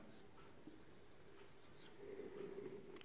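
Pen or chalk writing by hand during a grammar lesson gives soft, faint scratching strokes over several seconds, with quiet background noise and no speech.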